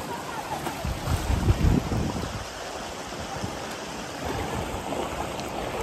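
Clear water flows over rocks in a jungle stream at the Sangam spot in Pachmarhi, a steady rushing wash that swells slightly at times, with some wind buffeting the microphone and no talking.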